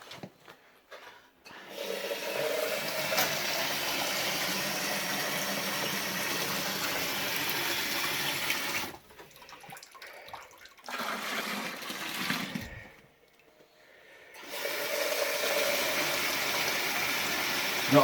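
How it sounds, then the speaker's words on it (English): Steady rushing of water pouring into a home-brew fermenter for a Coopers stout, running continuously for long stretches with brief pauses between pours. "Now I shall continue to add water until we get to about the 23 mark."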